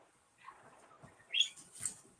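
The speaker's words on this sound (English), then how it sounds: "I hear birds in the background." Pet birds chirp faintly in the background of a home, with a few short high tweets and light flutters spread across a quiet moment.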